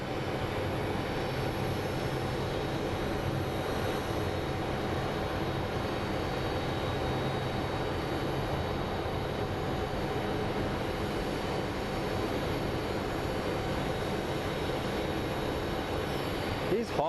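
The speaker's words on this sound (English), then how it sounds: "We have a train." A train passes near Sky Harbor International Airport in Phoenix, a steady loud rumble and rolling roar that holds evenly throughout, heard at moderate distance.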